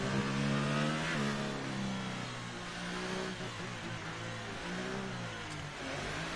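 An F1 car from a racing video game revs hard on a Monaco lap with hot lap mode and DRS open, its engine note rising and falling steadily with gear changes, loud and continuous throughout.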